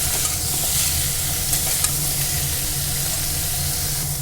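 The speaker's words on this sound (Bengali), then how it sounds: "এঁচড়গুলো দিয়ে নাড়াচাড়া করে ভেজে নেব এঁচড়টা আমি নাড়াচাড়া করে ভেজে নিলাম" Young jackfruit pieces stir-fry in hot oil with a loud, continuous sizzle and hiss, and small clicks of stirring run throughout.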